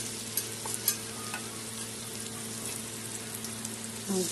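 Ash gourd pakoras fry in hot oil in a home kitchen, a steady, fairly quiet sizzle and bubbling that runs continuously, with a few faint clinks and small splashes and a louder spatter at the end.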